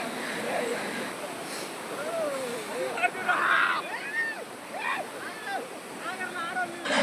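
Strong river current rushes around swimmers in a village, a steady rushing wash heard close by. Excited voices talk and shout over it the whole time.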